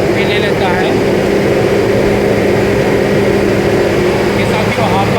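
An Apollo AP-1000 asphalt paver with a BS-5 engine runs at steady RPM while its hopper raises, giving a loud, continuous low engine drone with a mechanical hum, and someone speaks over it.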